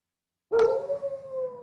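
A pet dog howls indoors, starting suddenly after silence with one loud, sustained, wavering howl that holds its pitch and slowly fades, close to the listener, with no talking over it.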